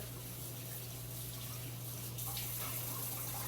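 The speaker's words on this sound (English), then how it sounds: "Just gonna wash my bacony hands here," Water runs steadily from a kitchen tap as hands are washed at the sink, a constant hiss with a low hum beneath and a slight splashing change near the end.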